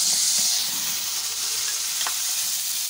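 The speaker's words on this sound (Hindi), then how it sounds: "इसे घी में जिससे भिंडी फ्राई की, इसमें टमाटर डाल दूँगी।" Tomatoes sizzle in hot ghee left from frying bhindi for bhindi masala, a steady close hiss of frying with a faint clink of a utensil around the middle, no talking.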